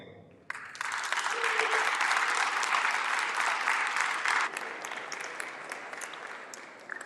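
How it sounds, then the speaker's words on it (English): An audience bursts into sustained applause welcoming Sheriff Mark Perry, a dense wash of clapping that starts abruptly, stays strong for several seconds, then eases slightly while continuing. "give a round of applause for Sheriff Mark Perry"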